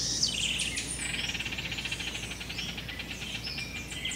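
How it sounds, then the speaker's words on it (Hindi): Birds chirp and tweet in a forest, bright repeated calls layered over a steady wash of insect-like hiss, moderately close and continuous with no voices. "एक परिंदा कहाँ बैठा चहचहा रहा है"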